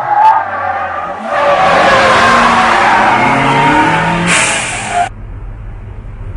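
A Honda Civic EG6 braking and turning hard at high speed in a mountain pass race, a long loud tire squeal and skid over revving engine, ending abruptly.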